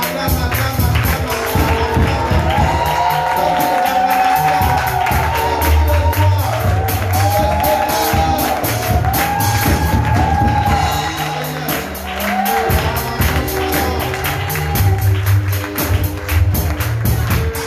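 A church congregation at a service cheers and acclaims in a sustained, loud wave of shouts, whoops and clapping, with voices rising and falling continuously.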